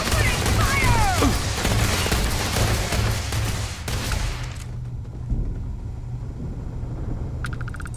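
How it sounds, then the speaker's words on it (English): Rapid gunfire in Starfield, dense bursts of shots and booms for several seconds over game sounds, then trailing off into quieter ambience with voices. "Opening fire!"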